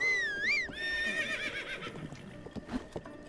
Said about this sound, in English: we can whistle, and the horse will come running